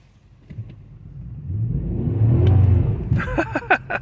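A car engine with snow mode switched off revs up, a mid-pitched rumble rising and swelling to a peak before easing back, followed by a few short knocks.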